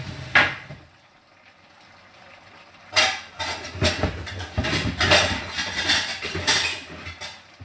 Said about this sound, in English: I'm going to grab that lid,